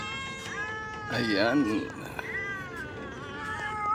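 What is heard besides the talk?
pet cats meowing while being fed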